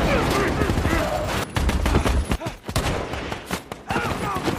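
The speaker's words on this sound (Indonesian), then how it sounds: "tiba-tiba Mustafa menembak si pengemudi" Gunfire in a scene from the film American Sniper: a loud, dense burst of shots crackles over a score and background effects, with sharp repeated reports clustering through the middle and end.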